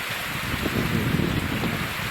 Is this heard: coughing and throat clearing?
no